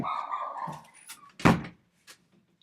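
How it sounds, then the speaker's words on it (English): Several dogs barking indoors in a few loud, sharp bursts, the last one close and strongest, then dying down to quiet. "don't mind my dogs"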